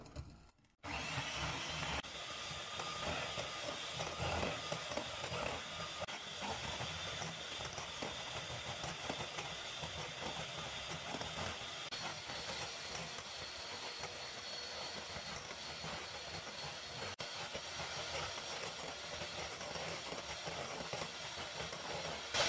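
An electric mixer whips cream and sugar into chantilly, giving off a steady, even whirring drone that runs unbroken for a long stretch after a brief start, with nobody talking.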